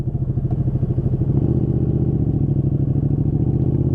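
Motorcycle ridden in winter, its engine droning steadily and loudly with a rhythmic, pulsing note throughout, no talking.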